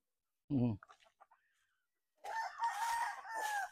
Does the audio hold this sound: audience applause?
no